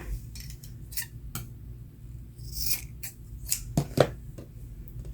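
Scissors snip through ribbon in a handful of quick, sharp cuts spaced irregularly over a few seconds, close and fairly quiet, with no talking.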